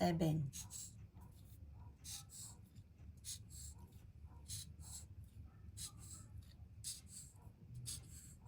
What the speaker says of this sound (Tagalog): Isulat nyo po dito ang 7.